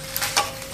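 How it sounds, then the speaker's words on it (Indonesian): Squid grilling in a Teflon pan gives a soft, steady sizzle with a couple of faint clicks, heard close for under a second. "kita mau manggang cumi guys"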